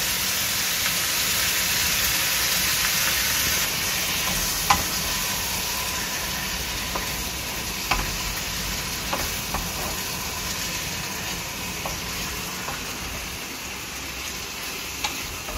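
Chicken fries and sizzles in a pan at home, a steady soft hiss broken by scattered light clicks from a utensil stirring, with no talking.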